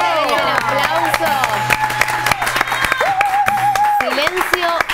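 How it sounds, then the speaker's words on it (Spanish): Audience applause and cheering at a live radio or studio session with musical guests, clapping and crowd noise mixed with loud singing or shouting voices throughout, dense and close. "¡Bravo! ¡Bravo! ¡Un aplauso!"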